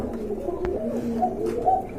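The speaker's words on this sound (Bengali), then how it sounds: "ওই যে দেখেন কি সুন্দর ডাকে কবুতর গুলো।" Pet pigeons in a loft coo in soft, low rolling calls, a few repeated phrases close by over a quiet background.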